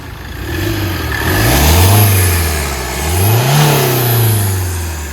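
A stage 2 tuned Hyundai Verna Fluidic diesel with a modified filter and downpipe revs hard twice in close succession, its deep exhaust note rising and falling loudly and close by with no talk.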